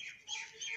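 Small birds chirp and tweet in quick bursts at a zoo in a rural village, the calls fairly close and alone, rising and falling in two short clusters.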